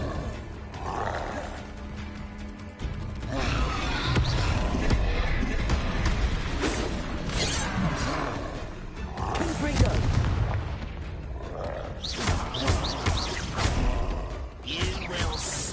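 A fire spell is cast in the Hogwarts Legacy video game, filling the scene with a loud, continuous roaring whoosh and booming bursts of flame, with game voices and music mixed in.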